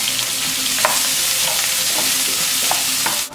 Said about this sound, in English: I really wanna cook these onions out until they become nice and soft and golden.